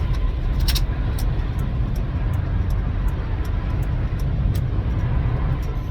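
Road noise inside a moving car, a steady loud low rumble with faint repeated clicks on top, no talking.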